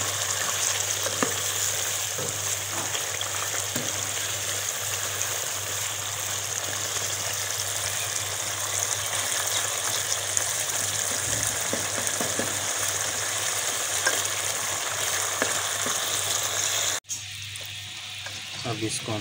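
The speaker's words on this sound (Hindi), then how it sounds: "2 मिनट के लिए इसको ज़रा भून लेंगे।" Charsi karahi in the Peshawar style frying in a wok, a steady close sizzle with occasional scraping stirs, continuous before an abrupt cut near the end.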